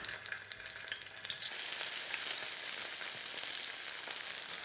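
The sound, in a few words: prawns sizzling in hot olive oil in paella pan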